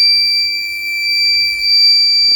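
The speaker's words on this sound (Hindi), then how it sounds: "अब ये ओवरलोड की बीप दे रहा है।" Voltage stabilizer sounding a continuous overload warning: a steady, loud high-pitched electronic tone held unbroken and alone, with faint background noise beneath.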